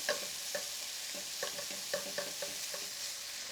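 Bacon sizzles in a hot pan under a constant frying hiss, and a utensil scrapes and taps through it at a regular stirring rhythm.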